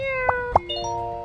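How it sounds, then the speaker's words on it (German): Two short cat meows from the video game My Time at Sandrock, sounding over steady game background music with chime-like tones, close and clear with no talking. "Miau. Miau, miau."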